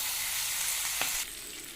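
Chilli-marinated fish frying in a pan, a continuous bright sizzle and hiss close up with a brief scrape partway through, the sizzle softening slightly near the end.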